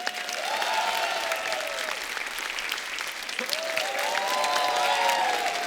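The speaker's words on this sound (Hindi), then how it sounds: "तो आप सबकी जोरदार तालियों के बीच बुलाते हैं श्री राम जी का किरदार निभाने वाले अरुण गोव" Audience applause fills the whole stretch, a steady wash of many hands clapping with some scattered cheering, at moderate loudness and without any talking.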